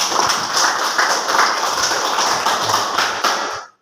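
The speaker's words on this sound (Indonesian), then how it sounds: "Tepuk tangan semuanya" Students in a classroom clap together for several seconds, a close, dense patter of hands that stays steady and then stops abruptly.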